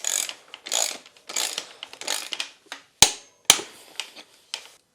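Bicycle crank arm on an alloy gravel crankset being reinstalled and tightened, heard as close rapid ratcheting clicks in bursts, with two sharp metallic knocks partway through.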